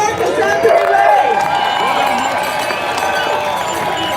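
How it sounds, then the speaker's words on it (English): An outdoor crowd at a freedom convoy rally cheers and claps, a loud continuous wash of voices and applause with whistles and tonal squeals running through it, holding steady and tapering slightly toward the end. "give them another round of applause"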